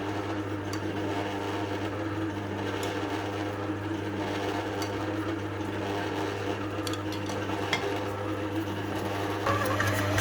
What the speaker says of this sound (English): we have to do it very, very slow, and we don't want to over mix the mixture